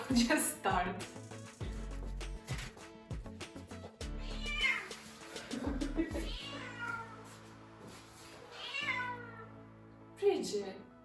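A cat meows repeatedly, several drawn-out, rising and falling meows close by, over faint steady background tones.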